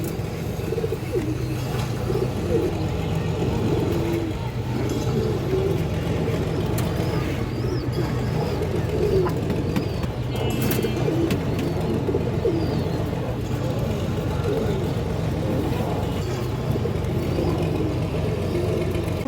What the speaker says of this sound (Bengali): কবুতর দেখতে খুব সুন্দর দর্শক।